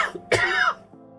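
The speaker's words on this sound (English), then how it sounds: "Coughing and choking." Cough from a character in the survival video game Stationeers, a single harsh hacking burst with choked throat noise, close and clear, then fading into quiet background tone.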